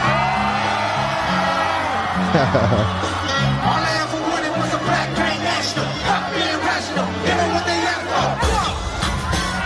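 Large concert crowd at a show in Mexico City, thousands of voices cheering, whooping and yelling over loud booming music, a dense continuous roar with swelling shouts.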